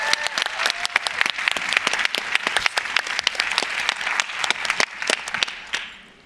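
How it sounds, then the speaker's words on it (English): Audience applause follows a call to thank the organizing team at a panel event, with dense, sustained clapping from a crowd that stays loud for about six seconds before tapering off. "could we just give the entire team a round of applause?"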